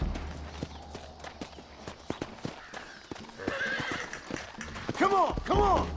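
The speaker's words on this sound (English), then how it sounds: "Looks like Carlos left us some horses" Horses in Red Dead Redemption whinnying near the end over a steady low rumble, with scattered clip-clop hoof clicks throughout.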